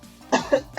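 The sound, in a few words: cough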